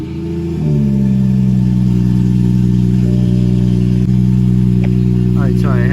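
A BMW 340i fitted with new IslandRacewerks coilpacks fires up for the first time after sitting off a while, catching quickly then settling into a loud, close, steady idle rumble.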